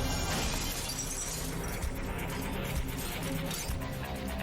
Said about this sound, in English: A thief hurls a rock, shattering the door.